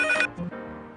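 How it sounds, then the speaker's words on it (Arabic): A telephone rings, a loud electronic trill that cuts off about a quarter second in, followed by quieter room sound and a brief return of the ring at the very end, with no talking. "لحظة عمي، اجاني تليفون"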